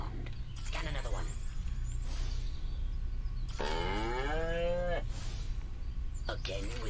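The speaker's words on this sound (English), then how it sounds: "Again with the moo." Cows moo in the Destroy All Humans video game: a long, loud, wavering low moo stands out in the middle, with shorter lowing calls before and after over a constant game background hum and a voice speaking.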